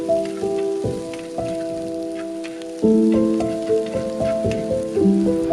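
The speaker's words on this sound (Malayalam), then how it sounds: "എന്നിട്ട് നല്ലപോലെ ഒന്ന് വഴറ്റിയെടുക്കാം." Shallots and green chillies sautéing in a pan for a snakehead murrel fish curry give a soft, continuous sizzle beneath steady background music.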